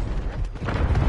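A short, low, rumbling boom from a video game explosion, with a muffled dip and then a second swell of deep rumble.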